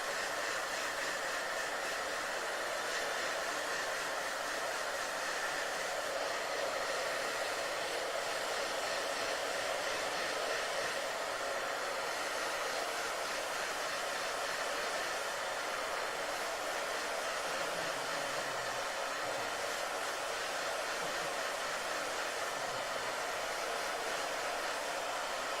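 A blow dryer dries a lace front wig with a steady, loud, unbroken whoosh of air that runs throughout without pause.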